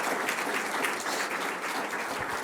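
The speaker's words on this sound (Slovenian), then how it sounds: "En velik aplavz vsem tem članom programskih svetov in fakultetam." Audience applause at an award ceremony honouring young Slovenian computing competitors, a broad, even wash of many hands clapping, steady and sustained from a large crowd.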